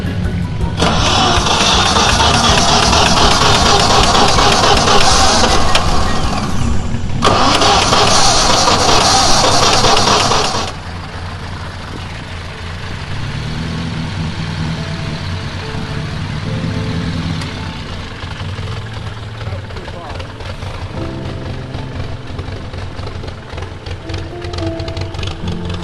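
The Salmson Grand Sport, a vintage car, is cranked with a loud, steady starter whir for about ten seconds, briefly pausing in the middle, then drops to a quieter rumbling idle that runs on.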